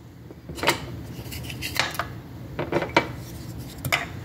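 Ingredients, including milk and cinnamon sticks, go into a pot for farina on a stove, with several close metallic clinks and scrapes of utensils against cookware spread over a few seconds, no talking.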